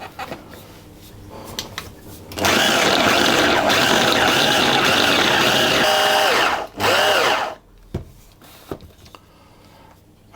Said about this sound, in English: blitz this, pulsing it repeatedly until the butter is incorporated into the flour